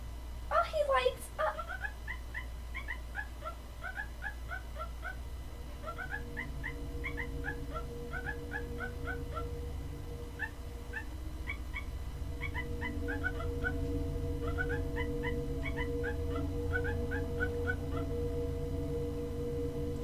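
A battery-powered toy dog, switched on, gives out a long run of repeating electronic whimpers and yips in steady rhythmic phrases over a constant mechanical hum, with people talking at the start.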